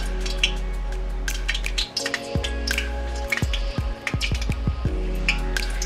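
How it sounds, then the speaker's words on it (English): Chicken pieces go into hot canola oil and fry with a steady sizzle, broken by a few sharp crackling pops as each piece drops in, close and fairly loud. "So I'm just gonna add my chicken in."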